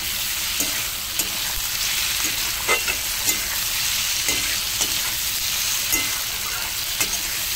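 Fish curry made with small puti fish sautés in a pan, a loud steady sizzle punctuated by regular spatula knocks and scrapes every second or so.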